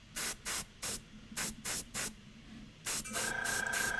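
An airbrush sprays paint onto a miniature in eight short hissing bursts, then a compressor kicks on with a steady hum beneath continuous spray, all close and soft.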